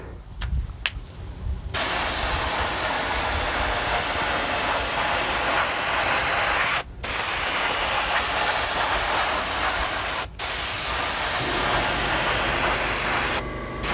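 Detail spray gun spraying coating onto tires, a loud continuous close hiss that stops briefly twice and resumes, after a few quiet clicks at the start.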